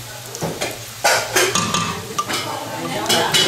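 Kale being stirred into a frying pan with sausage, onion, garlic and egg for feijão tropeiro: a spoon scrapes and clatters against the pan over a steady sizzle, with a few sharper knocks.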